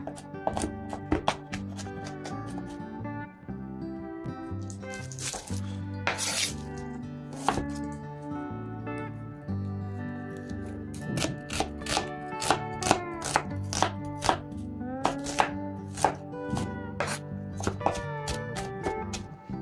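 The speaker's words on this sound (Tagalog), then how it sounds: "Kailangan natin ng isang buong bulb ng bawang at saka isang buong sibuyas. So, parehas lang natin itong tatadtarin." A whole bulb of garlic and an onion being chopped on a cutting board in a home kitchen, with fast, steady knife strikes, close and loud, continuing throughout with brief pauses and mixed with background music.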